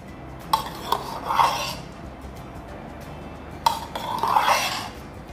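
A spoon scoops milk foam onto hot matcha in a cup, giving two short bursts of clinking and scraping against ceramic over a quiet background.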